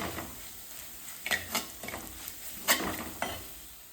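Chilli powder and roasted ground fenugreek sauté in hot oil in a pan for Kerala fish curry, giving a soft sizzle punctuated by several sharp stirring scrapes of a spoon against the pan at an irregular rhythm.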